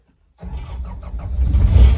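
A 2012 Kubota SVL90-2 compact track loader's diesel engine cranks and fires up after a short silence, the rumble building into a loud, steady run that grows louder toward the end.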